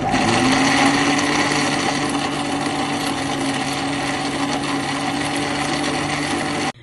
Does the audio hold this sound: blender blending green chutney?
yes